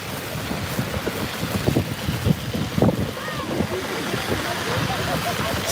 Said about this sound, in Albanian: ka shumë erë, shumë problem lëvizja